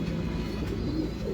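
A pigeon known as the jungli breed coos softly in low, throaty murmurs against steady background noise, over a brief moment.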